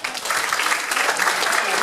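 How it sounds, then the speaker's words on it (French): The audience at an UFOLEP amateur cycling race awards ceremony in Anneville-Manéhouville applauds, with steady, fairly loud clapping from a crowd throughout the short stretch. "On va appeler, et sous vos applaudissements, les couleurs du Forge Vélo 76 avec Océane et nous."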